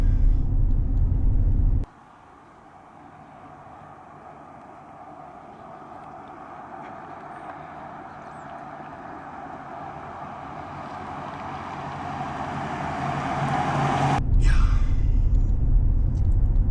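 A stock 2020 Ram 1500 Night Edition on Goodyear Wrangler 275/60 R20 tires cruising at 50 mph over bumps, heard from inside the cab as a steady low rumble and road roar that slowly builds, cut off abruptly at each end.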